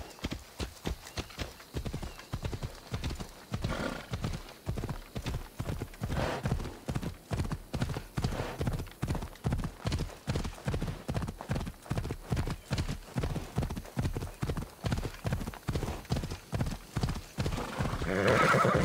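Steady, rapid hoofbeats of horses galloping in a fast clip-clop rhythm throughout, with a horse whinnying near the end, in the video game Assassin's Creed Odyssey.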